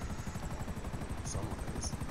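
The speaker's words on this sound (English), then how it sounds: "he's in a helicopter" A helicopter in Grand Theft Auto V Online makes a steady, rapid rotor chop that continues throughout at a moderate level.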